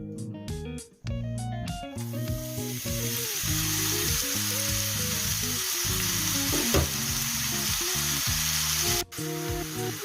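Steady, loud sizzling of spinach frying in sunflower oil in a hot pan, continuous crackle with a brief stir-like rustle partway through.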